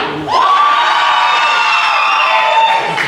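Crowd at a live wrestling show erupts into a loud, sustained cheer with whoops and shouts, rising quickly after a brief lull and holding steady at full volume.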